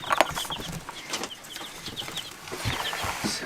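Baby chicks and laying hens in a homestead brooder cluck and peep in short, scattered calls, with faint rustling and wing flutters in between, heard close and at moderate volume without talk.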